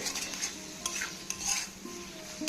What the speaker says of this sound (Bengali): তাই দিয়ে দিলাম ওই স্পেশাল বানানো মশলাটা